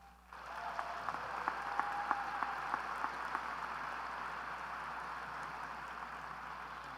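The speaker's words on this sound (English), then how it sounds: "I think that deserves a round of applause." Applause fills a large university ring ceremony hall, a broad soft wash of many hands clapping at a distance, steady and even from start to finish, with a few brighter claps standing out early.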